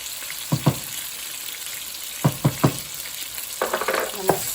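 Garlic sizzles in a frying pan with kielbasa and cabbage, a steady hiss broken by several sharp scraping clacks of a utensil stirring, in two quick clusters and a few later strokes.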